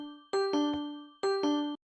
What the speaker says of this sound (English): he designed some door closing chimes using note blocks